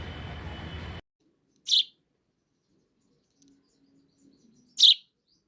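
Two short, sharp sparrow chirps separated by a few seconds of near silence, after a brief burst of background noise.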